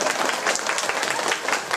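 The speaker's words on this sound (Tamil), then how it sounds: "கைதட்டுங்க, அப்போ தான் வருவார்." An audience at a music programme during a puberty function gives a short burst of applause, a dense patter of many hands clapping at moderate volume with no speech over it.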